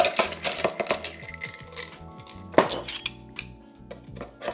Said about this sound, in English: Let's put a little bit of ice.